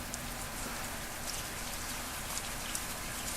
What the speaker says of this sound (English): Yep, there's the rain.